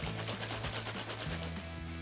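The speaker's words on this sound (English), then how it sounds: "If you've been shaking your Temprid Ready-to-Spray can and you think you're done, and it sounds like this" A Temprid Ready-to-Spray insecticide aerosol can shaken rapidly, giving a continuous dense rattle with a low hum under it, close and moderately quiet, with no voices.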